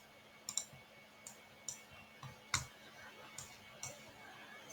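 Computer mouse clicking while working in Tinkercad, about seven crisp, close single clicks spaced irregularly over a quiet background.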